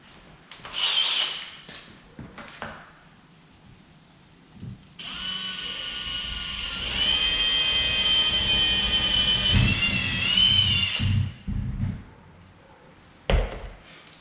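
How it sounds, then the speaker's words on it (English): A power drill whines in sustained bursts pre-drilling screw holes through an aluminum door sweep, louder and steadier in the middle, with clattering handling noises around it. "We're going to pre-drill the holes for the screws."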